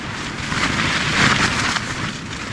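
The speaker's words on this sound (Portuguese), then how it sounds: "vai vir mais uma rajada aí, ó" A strong gust of wind buffets a tent at a campsite at night, a loud continuous broadband rush that swells toward the middle and stays dense throughout, with no voices.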